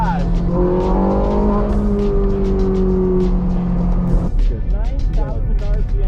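A Ferrari 458 Spider engine revs hard from inside the cabin, its pitch climbing and then dropping through the shifts. The sound is loud, close and continuous, with a voice talking excitedly over it.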